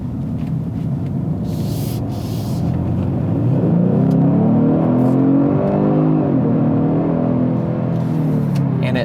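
A 2022 Genesis G70 accelerating hard, engine rising in pitch through several smooth gear shifts, a loud continuous cabin drone with road rumble, heard from inside.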